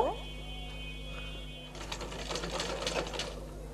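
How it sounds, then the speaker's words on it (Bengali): Sewing machine stitching lace onto a back neck design trimmed with dori cord and tassels, a quick run of rapid mechanical stitching that starts after a short pause, close and fairly steady. "তা আমি এটাকে নিচের দিকে রেখে তারপর সেলাই করব"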